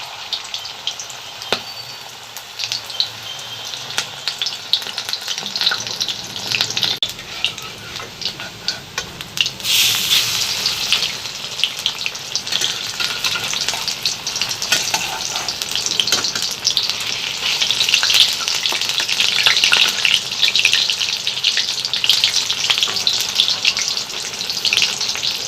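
Batter-coated bottle gourd leaf fritters, rolled like betel leaves, sizzle and crackle in oil in a kadai, a steady close frying hiss that swells louder partway through, with no voices.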